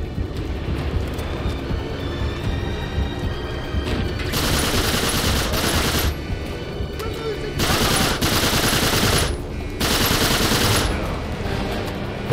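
Machine gun fire in Uncharted 3, loud sustained automatic bursts coming in three long stretches, separated by quieter gaps of game noise.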